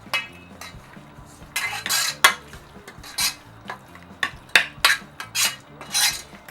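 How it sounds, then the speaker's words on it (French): Pork in mustard sauce is stirred in a Moulinex Cookeo electric cooker: a run of scraping stirs and sharp utensil clinks against the pot comes in irregular bursts with quieter gaps between, close and clear with no talking. "On mélange le tout."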